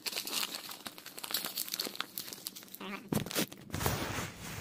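Plastic packaging on a Mario Kart Wii game case is cut open and peeled away, with steady close crinkling and crumpling, a few sharp tearing bursts near the end, and no talking.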